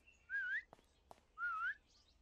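A whistle is blown twice in a video game, each a short rising-and-falling tone separated by brief clicks, clear and fairly quiet against a near-silent background.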